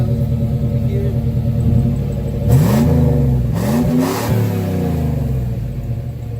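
A 1985 Jeep CJ7 with a Flowmaster exhaust idles with a steady low rumble, then gets two or three quick throttle blips that rise and fall in pitch before it settles back to idle, loud and close.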